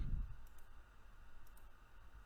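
A computer mouse button gives a few faint, sparse clicks against quiet room hiss.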